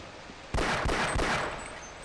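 Rapid SMG bursts from Half-Life, several short broadband volleys close together, loud and up front over a steady background hum.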